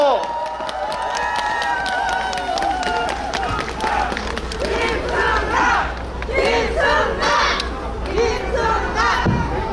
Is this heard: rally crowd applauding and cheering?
yes